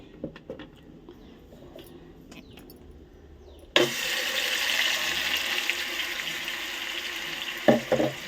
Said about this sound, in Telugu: నేను ఇంకా తాలింపు వేసుకుని దాంట్లోనే వేస్తున్నాను అనమాట.